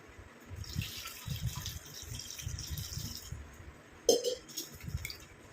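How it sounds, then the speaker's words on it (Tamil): Running water splashes steadily as flower petals are rinsed by hand, with soft clatters and a few louder sloshes near the end. "இப்போ இதில் நம்ம தண்ணி ஊற்றி நல்லா வாஷ் பண்ணிட்டு எடுத்துக்கலாம்"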